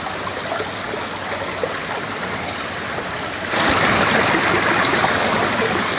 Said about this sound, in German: hier wird das Bächlein, oder beziehungsweise wurde das Bächlein endgültig zum Bach